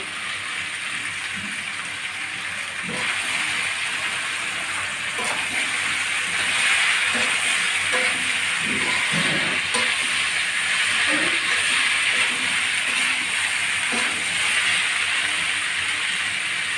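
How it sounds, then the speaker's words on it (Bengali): Slit green chillies dropped into a hot pan of chickpea, garlic and Malabar spinach curry, a steady, fairly loud hiss of oil sizzling continuously with small crackles and no talking. "আর দিয়ে দিচ্ছি কয়েকটা চেরা কাঁচা লঙ্কা"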